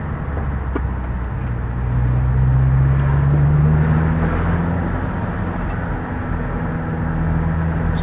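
A car with a new exhaust and recent repairs drives along, its engine hum and road noise steady and close, rising slightly in pitch midway as it picks up speed, with no talking.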